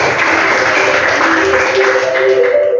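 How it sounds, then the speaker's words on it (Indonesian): A classroom group applauds a student named Adi after winners of a presentation are announced, a steady, fairly loud patter of clapping throughout. "Tepuk tangan Adi."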